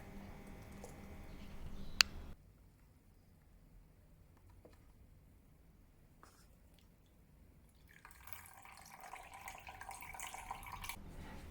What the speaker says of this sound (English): Pour the pandan suspension through a cloth bag.